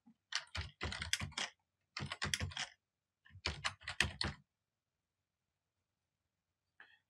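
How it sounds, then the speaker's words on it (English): Bursts of typing on a computer keyboard as an address is entered, three quick clusters of key clicks separated by short pauses, then near silence with a single faint tap at the end. "So I'll type in my address here at the upper"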